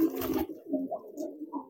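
A pigeon being trained for giring coos softly at close range, a short run of low, throaty coos after a brief rustle at the start, with no talking.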